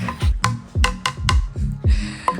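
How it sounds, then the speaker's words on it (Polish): A doorbell chime plays a quick tune of repeated ringing notes, close and clear, with no voices. "Czy to jest właśnie nasz dzwonek do drzwi?"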